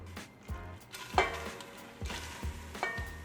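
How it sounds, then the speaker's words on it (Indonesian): Shrimp heads and shells cooking in olive oil in a pan, giving a steady sizzle broken by several sharp clanks and scrapes of a utensil stirring and spreading them, close and fairly loud, with no talk. "pertama-tama kita masak si kepala udang, kepala dan cangkangnya"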